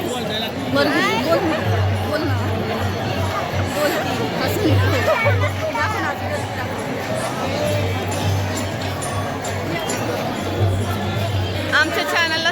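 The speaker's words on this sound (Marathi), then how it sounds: "आहे खूप गर्दी आहे" A crowd at the Dnyaneshwar Maharaj palkhi procession in Pune fills the air with steady, dense chatter and babble, many voices overlapping nearby with no single one standing out.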